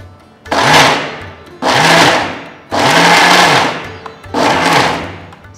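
A mixer grinder pulses ridge gourd chutney coarsely, with four loud whirring bursts separated by short pauses, each revving up then fading, close and without talk.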